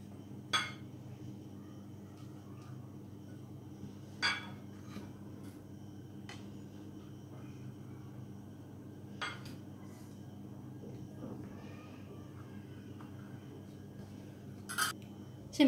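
Baked tarts are lifted out of their metal tart tins in a quiet kitchen, producing a few sparse, sharp metallic clinks and taps spaced several seconds apart over a low background hum.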